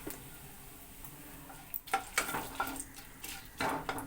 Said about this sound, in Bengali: ফোড়নে দিচ্ছি 2 শুকনো লঙ্কা, একটু সাদা জিরে, 2 তেজপাতা, আর দিচ্ছি অল্প পরিমাণে একটু হিং।